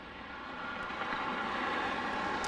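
A Delta Airbus A319 lining up for departure at Detroit Metro Wayne airport produces a low, steady engine hum that swells slightly, distant and fairly faint.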